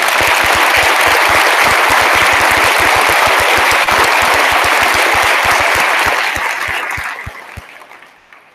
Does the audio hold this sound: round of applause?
yes